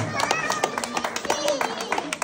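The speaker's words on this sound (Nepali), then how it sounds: "ताली बजाउनु होला।" Scattered clapping from a crowd at a Diwali Bhailo community event in Nepal, irregular and moderately loud, with voices talking over it.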